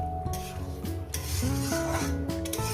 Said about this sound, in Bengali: টমেটো আর কাঁচা লঙ্কাটা দিয়ে দিলাম একসঙ্গে কষিয়ে নেবো